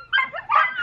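Puppies yip and whimper in two quick high-pitched bursts, close and fairly loud, part of a litter of six.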